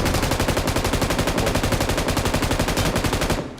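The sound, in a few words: gunfire in video game BGMI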